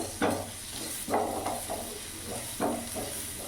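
Finely chopped onion shallow-frying over a medium flame for restaurant-style paneer butter masala: a steady sizzle broken by repeated scraping stirs of a spoon in the pan.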